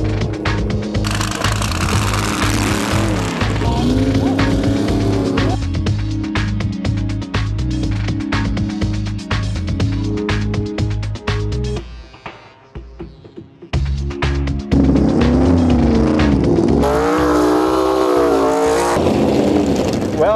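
Race cars roar around a frozen ice track in Colorado, engines revving loudly and continuously with rising and falling pitch as they pass close by, a brief lull in the middle before another car howls through.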